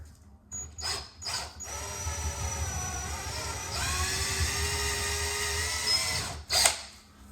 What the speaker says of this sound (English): These are a 1/2 inch, so I got my 1/2 inch drill bit.